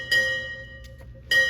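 A ship's bell striking four bells at a naval change-of-command ceremony. Two clear ringing strikes, each decaying over about a second, sit close and alone with no talk.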